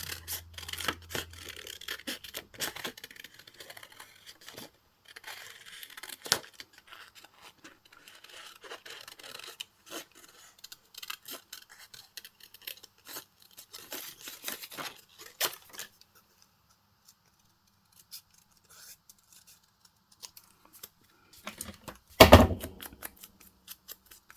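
Scissors snip and rustle through craft material for a card-making project in bursts of short close cuts and paper rubbing, then a quiet stretch and one louder handling thump near the end.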